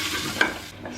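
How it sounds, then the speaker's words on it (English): Garlic frying in a pan while being stirred, for a sweet corn pickle, with steady close sizzling and a scrape of the spoon, no talk. "We'll fry it until the garlic turns in brown color."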